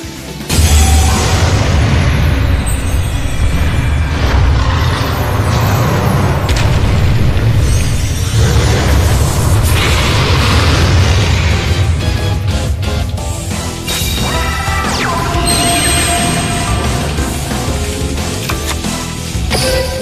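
Blue-Eyes White Dragon's summon effect in Yu-Gi-Oh Duel Links roars out as a loud, sustained booming blast with crashing, rumbling layers that stay dense throughout, no voice heard.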